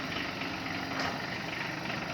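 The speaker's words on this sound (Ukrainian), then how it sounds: "Ось виїжджають трактори своїм ходом GB15." Used Kubota GB15 mini tractor engine running steadily, unloaded from a shipping container, a continuous dense mid-range drone at close range with no speech over it.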